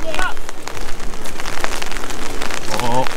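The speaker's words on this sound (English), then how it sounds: "Raining again." Steady, dense rain pattering loudly on a nearby surface at a wildlife park, a constant hiss of drops throughout with a faint voice briefly in the background.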